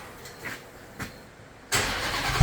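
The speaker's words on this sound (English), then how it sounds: "Let's hear the exhaust." At a Sunday car meet, a car engine fires up after a few quiet clicks and thumps, bursting into a loud exhaust roar near the end.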